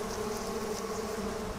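Honey bees buzz around an opened hive during a brood inspection with foundationless frames, a dense, steady droning hum close by, with no speech.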